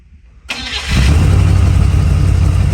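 After a short crank, a Chevrolet Squarebody pickup truck engine catches and settles into a loud, steady rumbling idle close by.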